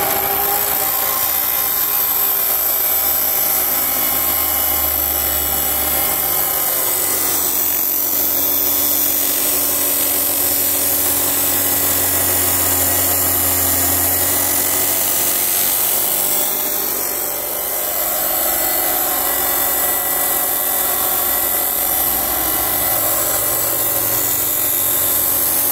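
A table top chop saw grinds steadily through the mushroomed end of a steel car axle shaft, a loud continuous abrasive whine with a low rumble beneath, sustained for the whole stretch with slight dips in pitch.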